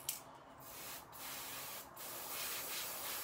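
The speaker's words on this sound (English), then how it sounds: "Let's add a little more spray" A steady hiss of hair spray from an aerosol can, continuous for a few seconds with brief dips, close to the microphone.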